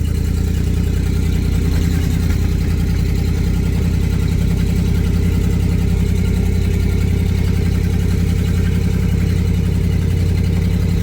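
A 1978 Chevrolet K20 pickup, long left sitting and on dry-rotted tires, drives around the block, its engine a steady, loud low rumble throughout with no talking.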